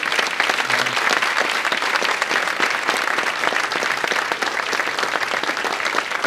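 A leadership awards luncheon crowd gives a dense, sustained round of applause for award finalists, steady and loud throughout with no break.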